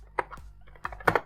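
Code typed on a computer keyboard in a few quick, close keystrokes, irregular clicks spread over about a second with no talking.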